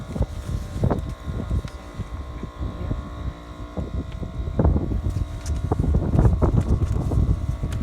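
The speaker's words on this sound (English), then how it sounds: "Now we're working with a windy day." Wind buffets the microphone in a steady, low rumble, with gusts swelling louder toward the end. No one speaks.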